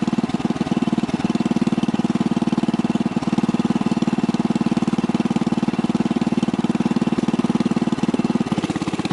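A towable backhoe trencher's engine runs steadily with its hydraulics working the bucket, a loud, close, continuous engine drone with a fast pulsing beat that holds throughout.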